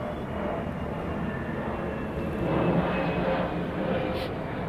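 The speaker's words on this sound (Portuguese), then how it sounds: "Tem um horário que passa mais avião aqui?" An airplane passes near an airport as a steady, broad engine roar that swells slightly midway and then holds, heard at a moderate distance with no voices.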